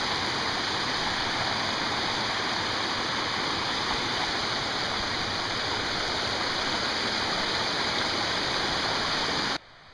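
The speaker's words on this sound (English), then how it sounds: "we got some water here, which is kind of neat" A stream of water flows beside a canyon trail in Neff's Canyon, Salt Lake City, making a loud, continuous rushing, splashing wash that runs unbroken until it cuts off at the very end.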